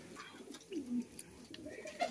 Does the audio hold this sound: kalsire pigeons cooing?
yes